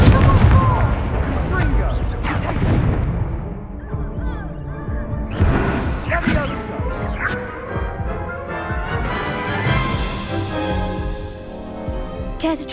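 Incendio fire spell cast in Hogwarts Legacy during Merlin's Trials, heavy booming bursts and crackling magical effects over rumbling game sound, with a short spoken spell call beforehand.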